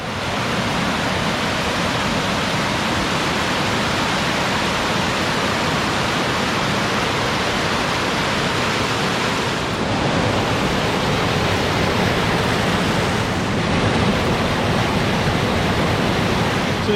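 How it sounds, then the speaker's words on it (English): Steady roar of rushing water at a waterfall on a remote backcountry creek under thick tree cover, loud and continuous at close range with no voices. "right above the waterfall"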